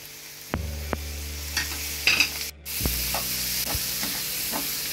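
Eggplant pieces sizzle and fry in a pan with onions, a steady hiss broken by several sharp clatters and stirring scrapes from a utensil against the pan, with no talk.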